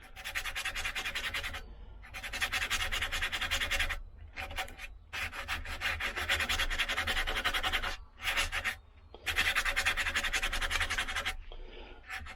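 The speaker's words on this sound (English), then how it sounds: "And this is a real coarse sandpaper here." Coarse sandpaper rubs back and forth over a wooden spoon in close, scratchy strokes, several long bursts separated by brief pauses.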